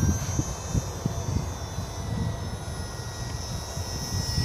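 Blade 200 SRX remote-control helicopter in flight, a steady buzzing rotor and motor whine holding at an even level throughout with faint low thumps, no voices.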